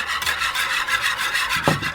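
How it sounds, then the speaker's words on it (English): Whisk scraping briskly around a bowl of Asian barbecue sauce with scallions for ribeye skewers, a steady close raspy rubbing that runs continuously for two seconds with no talk. "Little whisk action."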